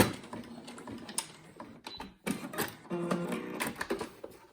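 Sewing machine reverse stitching over the original stitches on a fabric face mask, giving short bursts of rapid mechanical clatter with brief pauses between them, close and fairly quiet.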